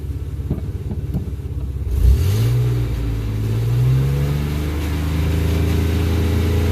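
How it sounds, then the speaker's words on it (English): A 1995 Chevy Blazer with a 4.3L engine hums low on a test drive, then revs up and holds a steady, rising drone that stays loud and close with no talking. "we're going to take it off for a test drive"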